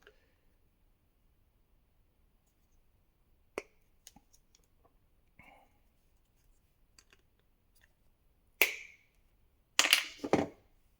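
Plastic on a prop proton-pack wand is cut in scattered sharp clicks and snaps, mostly quiet with a few louder cracks near the end, over near silence.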